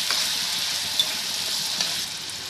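Ginger garlic paste frying in a pan gives a steady soft sizzle, with a couple of brief louder clicks of a spoon or spatula.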